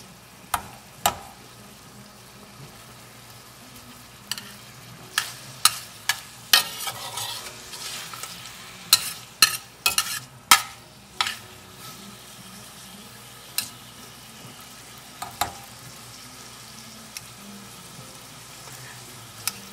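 Sausage frying in an All-Clad LTD 5-quart pan over high heat, a steady low sizzle broken by a string of sharp clacks and scrapes from stirring and turning, close and fairly quiet, with no talk.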